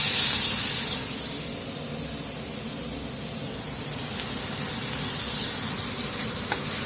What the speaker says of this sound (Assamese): এতিয়া ৰুকি লোৱা পিঁয়াজখিনি দি দিম